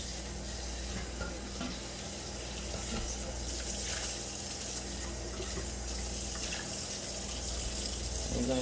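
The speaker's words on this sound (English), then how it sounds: "We're going to rinse off this rice." Tap water runs steadily over rice being rinsed, a continuous close splash with light clinks of the grains and container.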